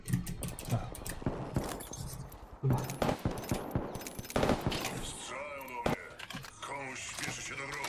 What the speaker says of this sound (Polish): Strzelają do mnie.